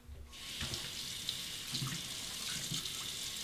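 Tap water running into a sink for rinsing a straight razor during a shave, a steady close splashing stream with bright hiss and small bubbling shifts, alone.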